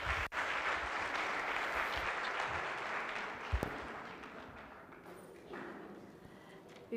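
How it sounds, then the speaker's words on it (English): An audience at a political dialogue event in Gauteng, South Africa claps steadily in a dense, continuous patter that slowly thins toward the end, heard from within a large room. "Let's welcome her with a round of applause."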